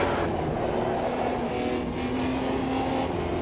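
A race car engine in Automobilista 2 on the Bannochbrae mod track holds a loud, steady high drone, with the pitch wavering slightly as the throttle is modulated. It runs continuously with no voices.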